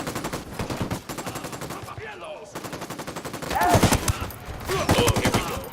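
Sustained automatic gunfire in Ghost Recon Wildlands: loud, rapid rattling bursts that pause briefly midway, then resume with heavier overlapping shots and a few whistling tones near the end.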